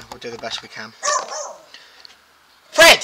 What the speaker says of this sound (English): That's my dog, he's just going to bark relentlessly now because a van's pulled in.